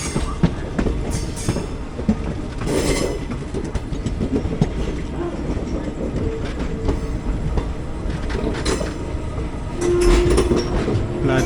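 The 22640 Alappuzha-Chennai express rolls into Coimbatore Junction with a continuous rumble and clatter of wheels on track, heard from aboard the train, and a brief squeal near the end.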